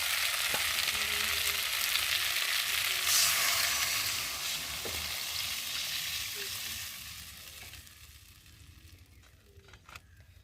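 Spiced cauliflower curry fries in a pan with a steady, loud sizzle while a spatula stirs now and then. The frying slowly fades quieter, ending in a few faint clinks. No speech.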